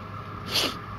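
A single short sneeze from a person nearby during an Elden Ring gaming session, a brief burst standing out above a steady background hum.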